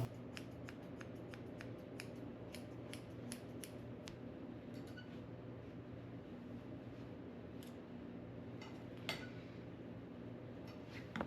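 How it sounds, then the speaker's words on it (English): Thinning shears trimming a Shih Tzu's facial hair, with quick, faint metallic snips in irregular bursts, close up over a quiet steady hum. "I'm using my thinning shears to try to make her face look a little more natural, not so choppy"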